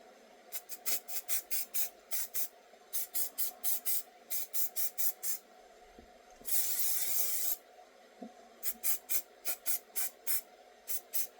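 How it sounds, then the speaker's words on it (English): Hairspray from an aerosol can is sprayed onto hair in many quick, close hissing bursts in rhythmic groups, broken by one longer continuous spray near the middle, with no talking. "I take my hairspray and I spray it."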